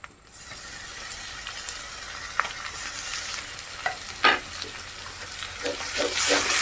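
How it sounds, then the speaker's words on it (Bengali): Cumin, garlic and green chili paste fries in hot oil for a duck curry, with a constant sizzle broken by scraping stirs and spatula knocks that grow busier toward the end. "দিয়ে ভালো করে ভেজে দেবো মশলাটা"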